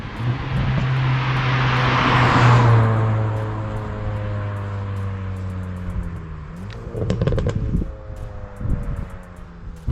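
Hyundai i20 N Performance hot hatch engine and exhaust, a steady loud drone with rising tonal harmonics that climb and then drop, followed by sharper bursts and crackles near the end, with wind rushing over the microphone throughout.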